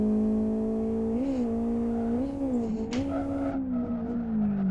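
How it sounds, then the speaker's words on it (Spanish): A race car engine in a drift simulator game drones loudly and continuously, its pitch dipping and wavering through a rough downshift, with a brief scuffing burst as the car leaves the track. "ha habido ahí una bajada de marchas bastante guarrilla y me he salido del circuito"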